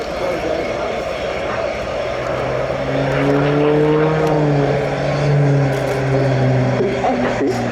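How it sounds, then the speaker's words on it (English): A Pilatus PC-9M propeller aircraft from the Slovenian Armed Forces performs a tail slide at the RIAT 2025 air display, its engine drone shifting in pitch as speed falls, loud and continuous beneath a voice speaking. "Again, the speed decreases and the aircraft goes into a tail slide."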